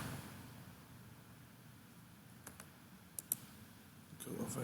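Several sharp mouse clicks at a computer while working in AutoCAD Civil 3D highway design software, a double click near the middle and another shortly after, close and crisp over faint steady background hiss.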